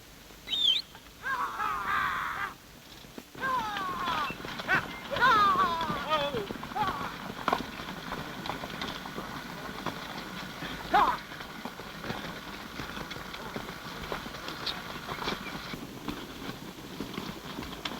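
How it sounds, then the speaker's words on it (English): Saddle horses' hooves clip-clop in an uneven patter beneath a busy outdoor scene, with voices and bird calls scattered through. "somebody's moving a bunch of your father's saddle horses up the draw"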